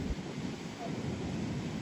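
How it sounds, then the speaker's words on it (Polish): Large, strong ocean waves breaking against rocks at Maroubra beach: a continuous broad roar and wash of surf mixed with wind buffeting on the microphone, steady for the whole stretch. "Są już naprawdę duże, silne fale."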